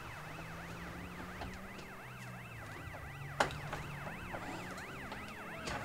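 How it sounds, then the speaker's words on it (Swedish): A police car siren in the video game GTA wails in a rapid, continuous up-and-down yelp at moderate level over game engine rumble, with a single sharp bang partway through. "Måste jag vara döv som polis och sitta och höra den sirenen ut."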